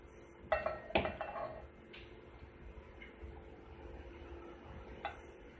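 Muskmelon pieces dropped into a blender jar: a few close clinking, clattering impacts at the start, then quieter scattered knocks against the jar in an otherwise quiet kitchen.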